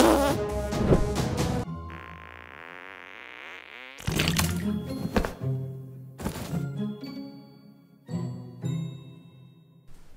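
Cartoonish farting noises mixed with jingles, dings and thunks from South Park: The Stick of Truth, several loud bursts coming in separate clusters between quieter gaps, with a rising buzzy tone in between.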